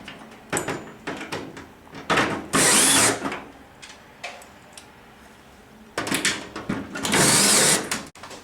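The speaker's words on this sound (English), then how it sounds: "you attach through the hanging channel into the stringer with the Tech screws" A power driver sends Tek screws through an aluminum awning hanging channel into a stringer, with two loud whirring bursts and lighter clatter and handling noise between them.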